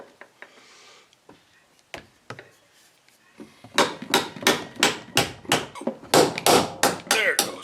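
A bolt is hammered into a wing fitting on a Piper Super Cub. After a few soft taps comes a long run of loud, sharp metallic blows in a quick, steady rhythm, close by.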